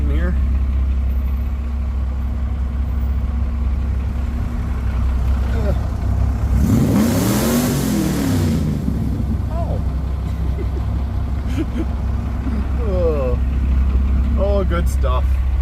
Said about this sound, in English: Just a few cars waiting here.